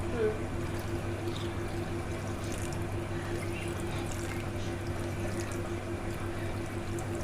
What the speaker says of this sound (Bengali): আর একটু জল লাগবে, একটু জল দেয়,